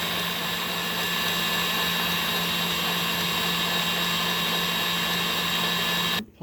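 An electric hand mixer whipping mashed potatoes, a loud, steady high-pitched motor whine with a constant tone running unbroken for several seconds before it cuts off abruptly at the end.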